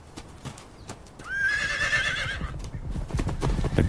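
Horses whinnying with a loud, wavering neigh over a steady patter of hooves clip-clopping, fairly close, with no talk.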